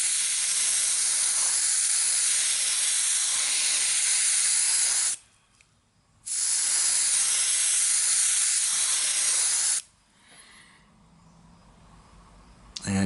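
Varnish sprayed from an aerosol over weathering pigments gives a loud, steady hiss in two long bursts, about five seconds and then four, with a short pause between them and quiet afterwards.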